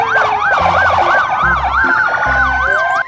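A toy police patrol car siren sounds close and loud, its rising and falling wail overlapping a second siren tone, with low electronic buzzing pulses beneath.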